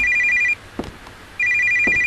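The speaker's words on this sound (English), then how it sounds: "Okay, I'm answering the phone." Telephone ringing in a Japanese horror video game, two loud electronic ring bursts with a pause between them, alone without talk.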